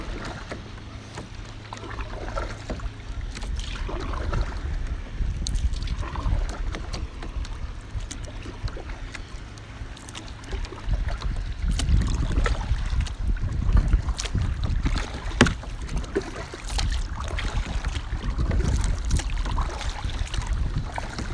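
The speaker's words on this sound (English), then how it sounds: "better get back to paddling" Paddle strokes from a Viking kayak dip and splash in open water, steady and fairly close, with wind buffeting the microphone throughout and no talking.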